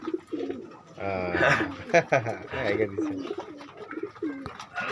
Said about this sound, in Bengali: এটা কি জাতের কবুতর